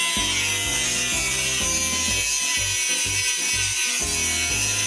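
Metal blank clamped in a vise being cut with a lap-disc grinder for a homemade knife, a loud, steady abrasive whine with rhythmic pulsing strokes throughout, close and continuous with no talking.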